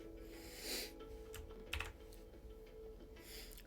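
Light typing on a computer keyboard while using Omarchy on Linux: a handful of quiet, scattered key clicks, close by, with no talking.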